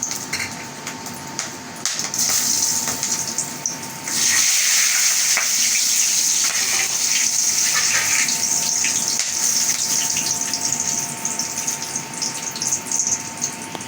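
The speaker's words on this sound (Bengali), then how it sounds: "আমার তেল গরম হয়ে গেছে আমি এখানে ছোট এলাচ বড় এলাচ দারচিনি তেজপাতা দিয়ে দেবো সব" Green and black cardamom, cinnamon and bay leaves are dropped into hot oil, setting off a loud hissing sizzle that surges sharply partway through and keeps crackling steadily.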